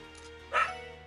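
A single short dog-like bark from an enemy creature in the game Trails to Azure, over a steady background music drone.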